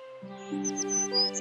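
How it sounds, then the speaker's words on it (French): Forest birds sing a story sound effect: bright chirps and short whistled notes repeat over a steady sustained musical drone, moderately loud and without talk. "Au matin, Blanche-Neige fut réveillée par le chant des oiseaux."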